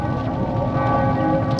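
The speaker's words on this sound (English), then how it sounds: "Those bells are driving me nuts." Bells ring steadily in the fantasy game The Witcher 2: Assassins of Kings, sustained overlapping tones forming a continuous loud wash over the game's background ambience, with no talking.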